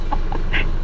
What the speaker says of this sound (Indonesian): truk segede gini, klaksonnya suaranya kayak gini